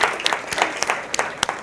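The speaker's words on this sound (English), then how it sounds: "Let's give a round of applause for you guys, first of all." Audience applauding first-time marathon runners at an MS Society gathering, a short burst of scattered, uneven claps with sharp individual hits, fairly close and moderately loud.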